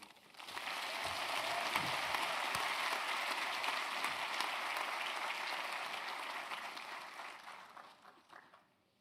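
An audience at a university graduation ceremony gives a sustained round of dense, rain-like applause that holds steady for several seconds before thinning out and fading at the end.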